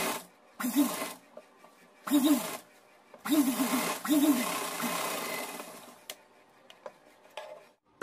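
A sewing machine stitches fabric for a small outfit made to dress a framed devotional picture, running in several short bursts of mechanical whirring separated by pauses, close and moderately loud.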